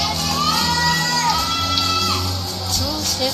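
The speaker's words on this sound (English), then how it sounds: "you can hear them now. They're clapping. They're cheering." Crowd at a national classic powerlifting championship meet cheers and shouts continuously, a dense roar of voices with whoops, sustained and loud throughout.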